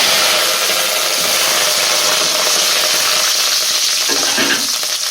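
Dried red chillies and curry leaves fry in hot oil for a tempering, giving a loud, steady, close sizzle that crackles evenly throughout with no voices.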